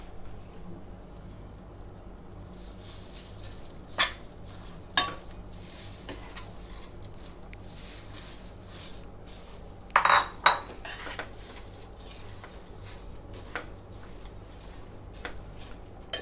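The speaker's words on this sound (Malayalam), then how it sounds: "നമുക്കിനി ഈ അവലിട്ട് ഇളക്കാം" Flattened rice stirred in a pan with ghee off the heat, soft grainy rustling with a few sharp spoon clinks against the metal.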